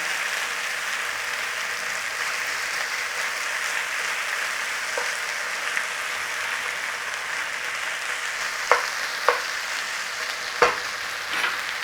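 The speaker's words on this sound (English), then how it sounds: "it's searing up quite nicely in there. It's not sticking to the pan." Beef sears in a hot pan for a beef and broccoli stir-fry, giving a steady, moderate sizzle and crackle with a few sharp pops and scraping taps near the end.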